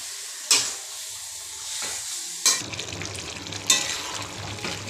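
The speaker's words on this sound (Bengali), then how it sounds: "মাংসটা ভালো করে কষে নিচ্ছি।" Duck meat sautéed in oil in a kadai, with a constant sizzle and three sharp, loud stirring scrapes spaced a couple of seconds apart.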